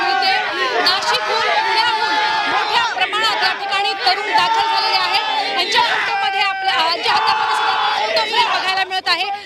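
A large, excited crowd of fans packs a Mumbai street ahead of the Team India victory parade, with dense chatter, shouts and cheers rising into a loud, continuous roar.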